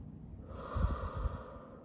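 One slow breath goes in and then out, soft and close, with a quick nasal snort of air in the middle and quiet all around it.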